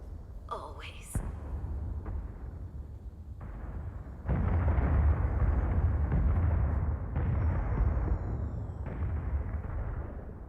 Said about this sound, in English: That's a lot of booms.